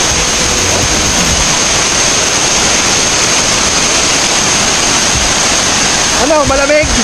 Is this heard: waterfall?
yes